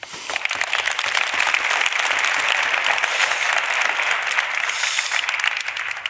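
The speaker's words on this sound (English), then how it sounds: "And I think that deserves a round of applause." Loud, sustained applause from the audience at an annual business conference's opening plenary session, a thick continuous clatter of many hands that holds steady the whole time.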